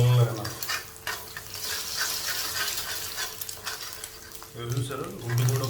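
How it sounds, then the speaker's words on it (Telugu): Beaten eggs frying in a hot pan for chicken egg noodles, a continuous sizzle with scraping stirs of a utensil against the pan, close and fairly loud, briefly broken by short bursts of a voice. "గుడ్డు కూడా బాగా వేగిపోయింది"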